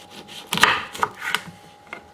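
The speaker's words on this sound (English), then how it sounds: "I'm gonna cut this one open." A knife cuts into a shatkora citrus fruit (Citrus macroptera) with a few close, crisp crunching and slicing sounds in a quiet room.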